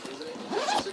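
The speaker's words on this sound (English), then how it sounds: "It has a back zipper with a gold around it." A zipper on a leopard-print purse with gold trim is drawn in one quick rasping pull, close and fairly loud.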